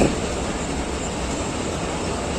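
A Pakistan Railways train brakes at Shahdara station on the Rawalpindi to Kasur line, producing a loud, steady, broadband rumble and rattle that fills the whole moment without a break.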